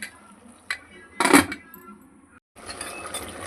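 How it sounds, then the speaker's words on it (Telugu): A pot lid clinks down onto a pot of simmering mutton curry, one sharp metallic clatter followed by a brief rattle, close and alone over a low kitchen background. "ఇప్పుడైతే మూత పెట్టి కొద్దిసేపు ఉడకనిద్దాం"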